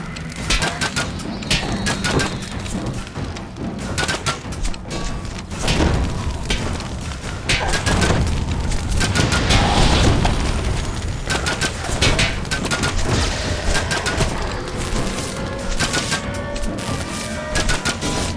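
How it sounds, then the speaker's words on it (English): Mage fire cannon blasting in the DDO game, set at an air skiff near Old Tully Tower amid swarming goblins: dense, continuous booming bursts and crashes over busy battle noise, loud throughout with no clear pauses. "A mage fire cannon!"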